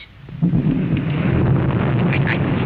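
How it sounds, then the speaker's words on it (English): A low, heavy rumble of thunder rolls on for a few seconds, dull and continuous, with no voices. "that noise you just heard with the thunder"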